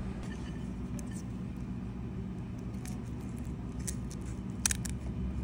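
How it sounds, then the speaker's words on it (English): Shop scissors snip through the shell of a lobster tail, giving a few sharp, crunchy cuts spaced over several seconds above a steady low background hum. "I like to use shop scissors instead of regular scissors or a knife."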